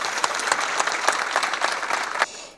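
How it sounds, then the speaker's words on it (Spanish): An audience at a clinic event breaks into loud, dense applause for Ilsa, steady clapping with sharper individual claps standing out before it tapers off at the end. "pido un aplauso muy grande para Ilsa"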